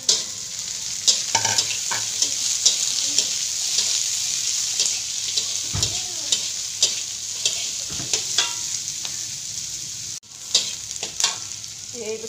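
Shallots, garlic, kailan stems and chili stir-frying in a wok, a steady hiss of sizzling oil broken by repeated scraping strokes of a spatula, close and continuous.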